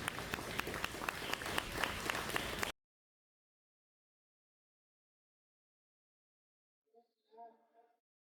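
A church congregation claps steadily for a few seconds before it cuts off to silence; a brief voice is heard near the end.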